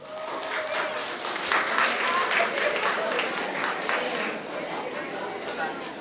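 Audience applause at a Catholic school Bible quiz competition, a steady wash of clapping from a crowd that swells in the middle and then tapers off, with murmured voices underneath.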